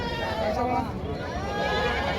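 Goats bleat in a busy Parbhani livestock market, a wavering nasal call rising over a dense crowd murmur, with people talking close by throughout.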